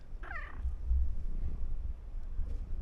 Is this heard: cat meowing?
yes